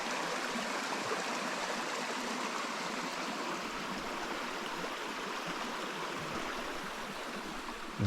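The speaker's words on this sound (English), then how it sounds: "There's a lot more water flowing down in this bit." A mountain creek in the Kananaskis valley flows steadily and fairly close, a dense continuous rush and babble of running water with no voices over it.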